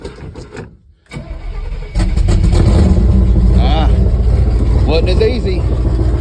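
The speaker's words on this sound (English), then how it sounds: "we're going to try to do a cold start" A 1964 Chevy big block with a 750 Holley carburetor and no choke, started cold. A short stumble of cranking gives way at about two seconds to a loud, rough, rumbling idle that carries on to the end.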